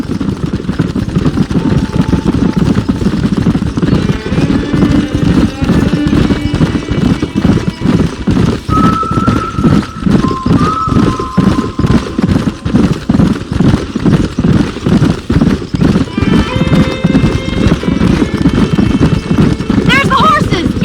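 Horses in a Red Dead Redemption game clip-clop steadily at a close, loud trot with occasional whinnies, under a constant rumble and spoken game dialogue.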